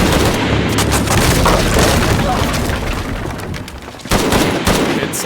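Dense, loud gunfire and booming blasts from the video game Shadow of the Tomb Raider, a continuous barrage with a few heavier impacts near the end and shouting voices mixed in.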